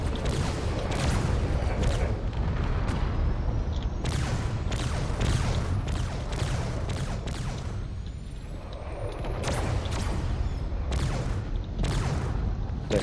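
Railgun fire and explosions around a carrier in a space combat game, a rapid series of sharp booming bursts over a continuous rumbling din, with a faint rising whine partway through.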